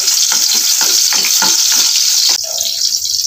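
Garlic and onion sautéing in a pan for chicken afritada, a loud bright sizzle broken by rapid repeated spatula scrapes, then the stirring stops and the hiss eases to a steadier, softer fry.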